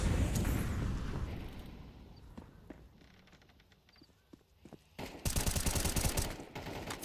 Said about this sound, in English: Ooh, the nade can find very good damage. The nades are coming in.